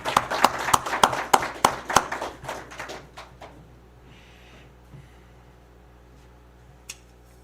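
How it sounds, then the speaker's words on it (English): A short burst of clapping, sharp claps fading out within a few seconds, followed by near quiet with a faint knock. "round of applause"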